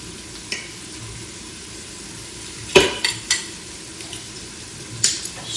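Scraping and stirring of chicken cacciatore inside an Instant Pot, with a few sharp metallic scrapes against the pot and soft sizzling underneath, no talk.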